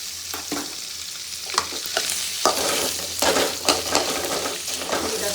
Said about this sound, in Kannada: ಬೆಣ್ಣೆ ಸ್ವಲ್ಪ ಕರಗಿದ ಮೇಲೆ ಬೆಣ್ಣೆಗೆ ಪನ್ನೀರ್ ಹಾಕ್ಕೊಂಡು ಫ್ರೈ ಮಾಡ್ಕೊಳ್ಳೋಣ